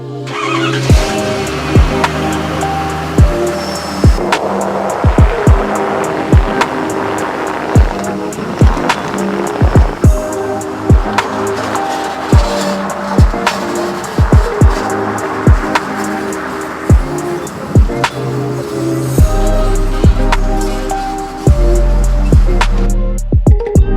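An SR20-powered Datsun 510 drives along the road, its engine droning steadily inside the cabin with repeated sharp clunks and thumps over bumps, loud and close, ending in a heavier rumble.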